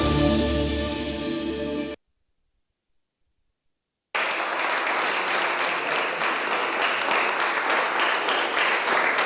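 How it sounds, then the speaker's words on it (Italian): Applause breaks out in a city council chamber as the members present clap together, a loud, dense burst of many hands that continues steadily for about five seconds after a brief silence and an earlier tonal passage. "Nell'aula del Consiglio Comunale, con la sola maggioranza presente, parte l'applauso."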